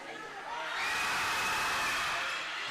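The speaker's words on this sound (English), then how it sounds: "Mustang crowd gets loud." Loud gym crowd at a high school volleyball match between Sheyenne and Fargo North, swelling into sustained roaring cheers and whoops that build after half a second and hold steady to the end.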